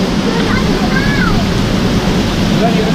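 Rushing waterfall in the Brecon Beacons, Wales: a steady, broadband roar of falling water filling the whole clip, close and loud, with a faint bird chirp briefly above it.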